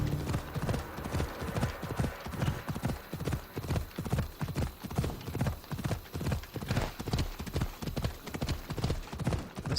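A horse gallops uphill in Assassin's Creed Odyssey, its hooves clip-clopping in a quick, steady rhythm that runs the whole stretch, close and clear, with faint game ambience behind.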